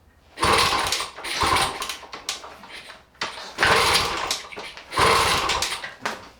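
A 1977 Kawasaki rotary valve mini dirt bike is kick-started, giving three loud, close bursts of rough sputtering two-stroke noise separated by short gaps as the engine nearly catches but dies.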